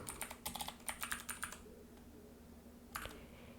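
A computer keyboard clicks in a quick burst of soft, close keystrokes, pauses, then gives a few more taps, all faint over a low steady hum.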